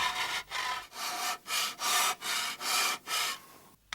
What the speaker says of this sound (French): Alors, on travaille à la lime, c'est ça. On donne la forme à la lime.